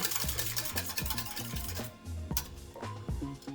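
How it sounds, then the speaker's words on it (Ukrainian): Milk being stirred into crème brûlée mixture in a bowl, with rhythmic clinking of a utensil against the bowl and soft liquid swishing, several strokes in quick succession, close and clear. "Додаю молоко. Розмішую."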